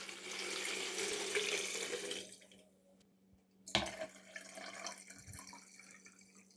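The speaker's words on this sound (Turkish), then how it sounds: "Üzerine içme suyu dolduruyorum." Drinking water pours from a tap into a plastic jug, a steady rushing stream that cuts off briefly, then resumes with a splash and continued filling, close and alone.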